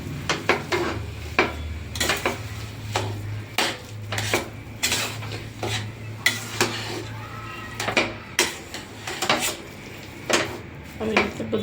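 Potato samosa filling with spices and lemon is mixed in a bowl, with repeated clinks and scrapes of a spoon against the bowl at an uneven rhythm over a low hum.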